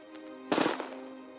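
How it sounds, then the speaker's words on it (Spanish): A single sharp gunshot from a rigged gun, a loud close crack followed by a brief decaying tail over a steady hum. "Usando un arma trucada, Smith apuntó y apretó el gatillo."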